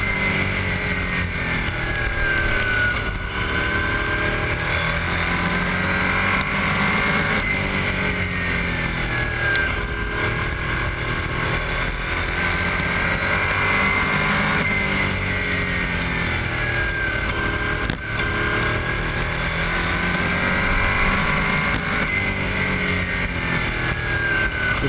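Race cars run under green flag at a New England oval track, a steady, dense roar of overlapping engines with cars sweeping past again and again.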